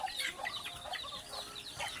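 Small chickens clucking and peeping steadily while being fed, a dense overlapping chatter of young birds at close range with no talking.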